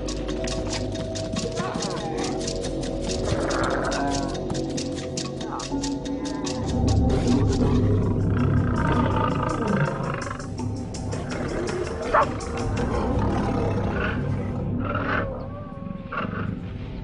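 Lions roar repeatedly in a wild savanna setting, deep rumbling calls rising and falling over a steady low ambient bed, fairly close and sustained.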